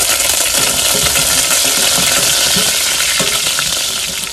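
Chopped garlic and curry leaves sputter in hot oil as the base for a nethili (anchovy) fish kuzhambu, a loud, dense, continuous sizzle close up that eases slightly at the end, with no talking over it.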